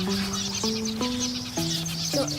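An electronic sparrow call played as a lure beside glue traps: steady whistled tones that hold and then step up or down in pitch, looping continuously at moderate volume with no voices.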